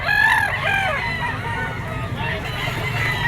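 A straight-combed, yellow-legged stag (young rooster) crows in a busy poultry auction market in Lipa, its call standing out loudly near the start over crowd murmur and other birds crowing in the background.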